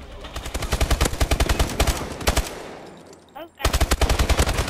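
Rapid automatic gunfire in the video game Call of Duty Advanced Warfare rattles in long bursts, pausing briefly before resuming just as loud and close.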